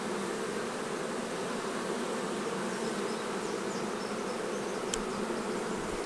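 Honey bees buzz continuously around summertime beehives, a dense, steady drone close by with no pauses and no voices.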